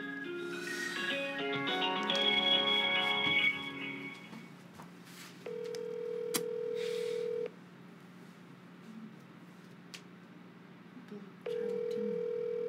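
A telephone call being placed: a rapid run of keypad dialing tones, then two long, steady ringback tones separated by a quiet pause, loud and close with no talking.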